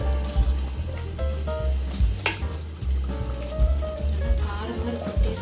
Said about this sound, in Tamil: ஸ்டவ் ஆஃப் பண்ணிட்டேன். இன்னும் கொதிச்சுட்டே இருக்கு.